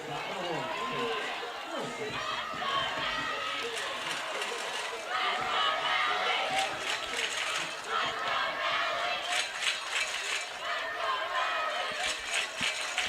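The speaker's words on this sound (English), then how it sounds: "The crowd cheering, let's go Nelly." Crowd at a high school varsity baseball game between Lewisburg Patriots and Hernando Tigers cheering and chanting, a sustained roar that swells louder midway with rhythmic shouts, under an announcer's commentary.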